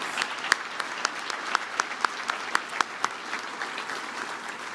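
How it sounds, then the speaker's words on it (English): Applause from a luncheon audience at a transportation summit, honouring the speakers and award winners; steady clapping with a few sharper claps standing out, moderately loud and continuous throughout. "We'll give them another applause, just collectively, big applause"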